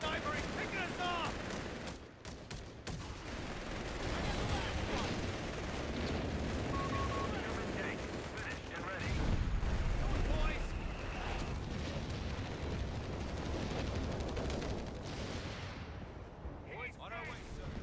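Enemy sniper fire and dense battle noise in the video game Slumber Realm, a continuous loud roar of shots and explosions that runs through the whole stretch, with voices talking over it.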